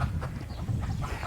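Chickens in the Aruba countryside outdoors, a steady busy clucking and fowl chatter at moderate distance over a full, continuous outdoor background, with no talk.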